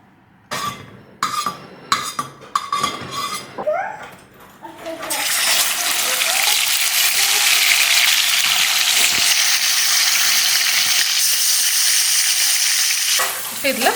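Scattered clinks and short bursts of speech come first, then a loud, steady hiss of coconut milk liquid sizzling hard in a hot pan for several seconds, before chicken is added.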